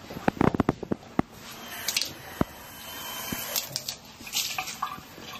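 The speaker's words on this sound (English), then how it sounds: "I'm going to take my rag here, I'm going to put it under a little bit of hot water" Hot water runs from a tap onto a rag at a sink, with splashing and a few sharp drips and squelches early on, then a steadier quiet flow, close by.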